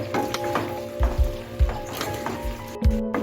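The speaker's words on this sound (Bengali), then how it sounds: "এখন আমি মাংস ভেজে আগে থেকে ভেজে রাখা মাংসটা দিয়ে দিচ্ছি" Pre-fried chicken pieces added to a pan with capsicum and onion for chilli chicken, sizzling with several dull thumps and scrapes of stirring, close and moderately loud.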